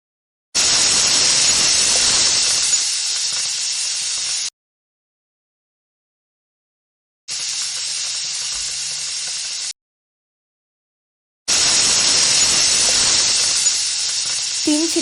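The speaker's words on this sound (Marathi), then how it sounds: "कुकरचं झाकण लावून आपण याला 3 शिट्ट्या करून" Pressure cooker whistling while vegetable pulao cooks, three long loud hissing steam blasts, each several seconds long, with silent gaps between them.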